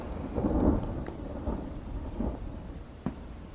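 Thunder rumbles under steady rain, with a few low rolling swells and a sharper crack near the end, continuous and fairly close.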